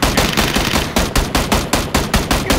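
Rapid Uzi bursts in a video game, a loud close string of sharp automatic shots in quick even rhythm lasting nearly three seconds.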